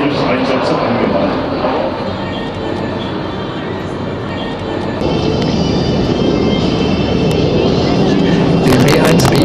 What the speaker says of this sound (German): Der W1B-Bomber Lancer. Er rollt nach Westen und wird gleich starten.